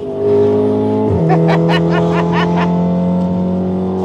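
Car driven by Ande, a steady engine drone with a clear pitch shift just past one second as it pulls away, strong and close throughout, with faint sharp squeaks or clicks riding over it.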